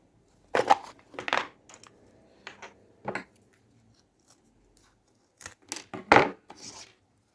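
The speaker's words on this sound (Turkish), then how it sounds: "fermuarın fazla kısımlarını kesiyoruz" Scissors snipping off the excess ends of a fabric zipper while sewing a handmade pencil case, several short crisp cuts in bursts with quiet pauses, close and alone.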